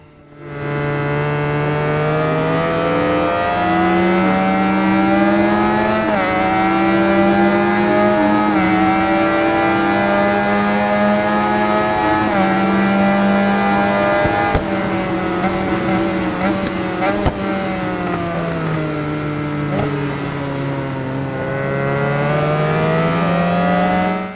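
A 750 motorcycle roars through a classic endurance race in the Ride 4 video game, its loud engine note rising and falling with gear shifts for the whole stretch, with someone talking over it.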